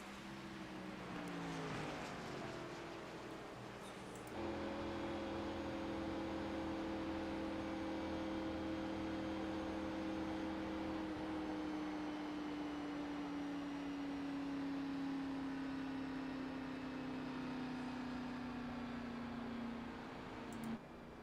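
A racing video game stock car engine drones steadily under yellow flag, its tone shifting as the clutch is pressed and then holding a long, slowly falling whine, faint and continuous throughout.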